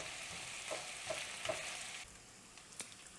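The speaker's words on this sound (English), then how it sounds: "you just want to give your bacon a flip as it cooks" Bacon fries in a pan as its fat renders, giving a soft continuous sizzle with a few small pops and a faint clink as pieces are flipped, fairly quiet and without talk.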